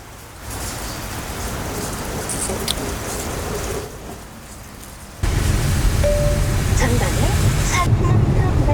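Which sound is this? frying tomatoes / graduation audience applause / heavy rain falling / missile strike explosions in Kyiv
heavy rain falling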